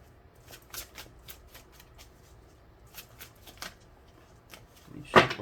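Tarot cards are shuffled by hand in quick, soft riffling bursts, faint and close, ending in a louder sharp flutter of cards near the end.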